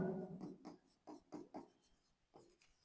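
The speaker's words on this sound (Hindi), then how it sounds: "जैसे एक शब्द लिख देते हैं" A pen or pencil scratches out a word by hand on paper, a handful of short scraping strokes in quick succession, close and fairly quiet, with no talking.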